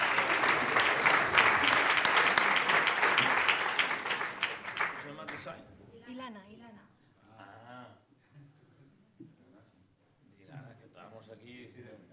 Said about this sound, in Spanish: Pues un aplauso para nuestro emprendedor.